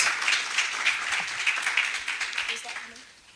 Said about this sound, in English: Give him another round of applause, guys.